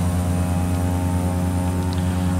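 Propeller aircraft engines in the Prepar3D flight simulator drone steadily at reduced throttle, a loud, constant multi-toned hum with no talk over it.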